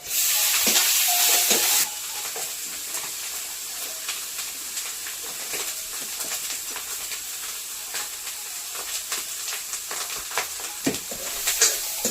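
Sliced onions and mushrooms frying in a pan give off a continuous loud sizzle and hiss, with occasional scrapes and taps of a stirring spoon against the pan.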